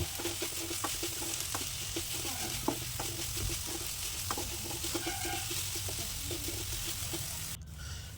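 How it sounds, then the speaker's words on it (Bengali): Chopped garlic and onion fry in a pan for shrimp-paste-style dried fish mash, giving a continuous close sizzle broken by repeated light scrapes and taps of a spatula stirring. "এবার আমি রসুন কুচিটা দিয়ে আবার একটু ভালো করে ভেজে নেব"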